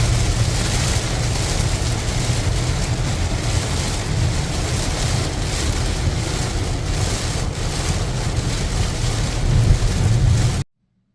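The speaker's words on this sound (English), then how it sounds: "this is how bad it was raining" Heavy rain during a drive pounds the car in a dense, steady roar with a low rumble of road and wind noise underneath, continuous and loud until it cuts off abruptly near the end.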